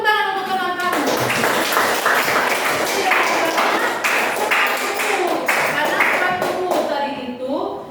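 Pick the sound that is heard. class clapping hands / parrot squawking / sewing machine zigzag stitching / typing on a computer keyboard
class clapping hands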